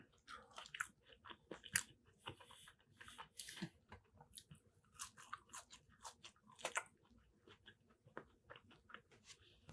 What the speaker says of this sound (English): Last bite of the fries there.